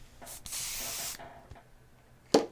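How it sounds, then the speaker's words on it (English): A spray gun sprays thinned paint mixed with reducer, giving a close, steady hiss that lasts about a second, with a quieter trailing hiss and a short sharp burst near the end. "just see how the paint is spraying"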